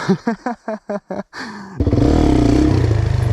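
Quad engine sputtering in quick uneven pops, then catching and revving up into a loud, steady buzzing drone with a rough pulsing rhythm, close by.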